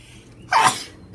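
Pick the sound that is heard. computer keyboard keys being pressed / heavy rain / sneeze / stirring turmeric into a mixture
sneeze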